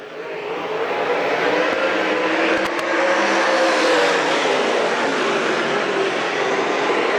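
Race cars at Bedford Speedway roar together at the start of a six-lap race, a dense, sustained engine wash swelling loudly and holding steady as the field blasts away.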